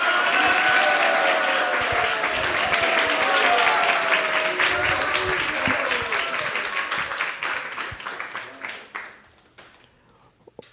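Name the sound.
audience applause for the devotees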